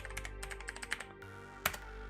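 Rapid keystrokes on a computer keyboard during a 3D printer build, a quick run of clicks, a short pause, then one sharp burst of key presses, fairly close and clear over a low steady hum.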